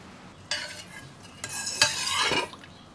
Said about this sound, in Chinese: 鱼汤盛入碗中